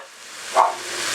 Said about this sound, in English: Are you guys helping me by barking? You got words of encouragement from the dogs?